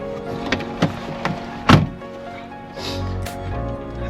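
A Jeep door shuts with one solid thunk on an off-road camping trip in the Alberta and BC mountains, after a few lighter knocks; idling engine rumble continues underneath.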